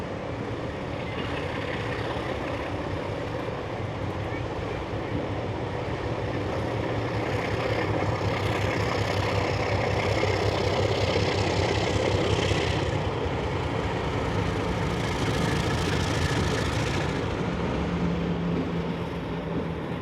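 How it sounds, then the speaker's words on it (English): Sydney Trains set 3642 rolls into Mount Victoria station in the Blue Mountains of New South Wales, a steady broadband rumble of wheels and motors that swells slightly mid-pass, with no talk over it. "3642 pulling into its final stop, Mount Victoria, dropping off its final load of passengers"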